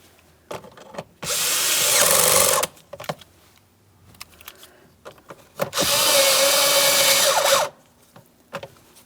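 On a 2015-2025 Ford Transit 250, a power tool tightens strut mounting bolts in two loud close bursts of about one and a half seconds each, separated by quieter clicks and handling noise.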